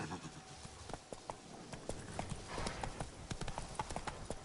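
Horse hooves clip-clopping while riding in the video game Witcher 3, a steady trotting rhythm of sharp clops, fairly quiet, continuing for a few seconds.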